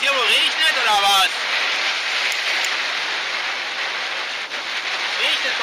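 Rain falls on a truck during a stormy drive, a dense steady patter and hiss close around the cab, with someone speaking briefly at the start and near the end.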